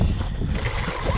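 A Kyosho V-One S radio-controlled boat converted to a brushless motor on a 4S battery, carving a turn on the water, its motor whirring under a windy, splashy rush for a brief moment.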